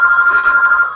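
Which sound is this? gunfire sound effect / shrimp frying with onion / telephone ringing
telephone ringing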